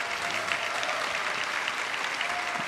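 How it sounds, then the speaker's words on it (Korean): A church congregation at a special early-morning revival service claps for the high school choir, a dense, even burst of applause filling the room for a few seconds. "다시 한번 귀한 찬양 올려드린 우리 고등부 친구들에게 격려의 박수 하겠습니다."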